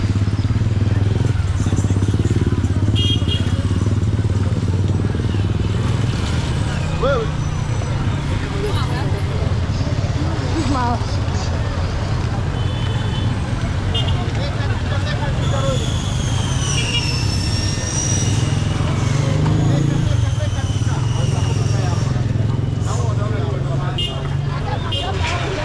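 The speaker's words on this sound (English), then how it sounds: "vehicles are still coming." Motorcycles and cars pass steadily along a busy street in Eastleigh, Nairobi, making a constant loud traffic rumble with engine whines rising over it. Voices and crowd chatter run underneath throughout.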